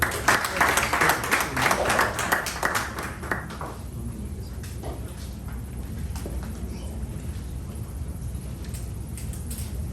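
A Toastmasters club meeting greets its general evaluator with a round of applause, a burst of brisk, bright clapping that lasts a few seconds and then fades into scattered faint claps over a quieter room.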